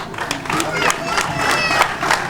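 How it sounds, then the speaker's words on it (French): An audience at a school building event in Benin applauding, brisk overlapping hand claps at close range, fairly loud and continuous, with a voice heard briefly over them. "Je pense que cela mérite des applaudissements."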